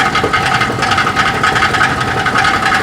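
A Chevrolet Silverado truck with a 6.0 engine, suffering a rear main seal leak, runs nearby with a loud, steady rumbling drone and a rattling mechanical texture, no voices.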